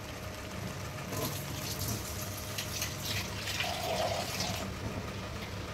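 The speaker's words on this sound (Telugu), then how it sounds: "ఇప్పుడు దీంట్లో మిక్సీలో కొన్ని వాటర్ పట్టేసి ఇచ్చేయండి." Water running into a mixer grinder jar in a home kitchen, a soft continuous pouring and filling sound heard fairly quietly with no talk.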